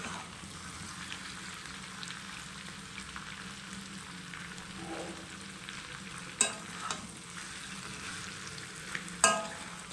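Curry frying in a home kitchen pan while being stirred, a steady low sizzle with soft scraping and a couple of sharp utensil knocks near the end.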